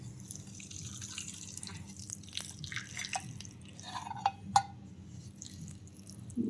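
Homemade hair oil drips through a cotton cloth and a strainer into a bowl, giving faint, scattered drops over a quiet background, with two sharper drips close together near the end.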